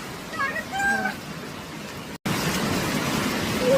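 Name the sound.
rain falling near a waterfall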